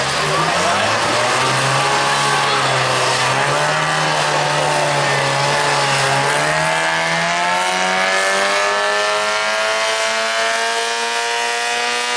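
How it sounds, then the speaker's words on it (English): A loud two-stroke Detroit diesel engine in a tractor at a tractor pull revs continuously, its rough harmonic roar rising in pitch and holding high, close and unbroken. "Sounds like a 2-cycle Jimmy Diesel, actually."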